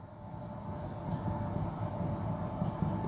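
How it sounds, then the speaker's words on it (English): Marker or chalk squeaking against a lecture board in brief strokes, two sharp squeaks standing out over a low steady room hum, with no talking. "You have to write that y here."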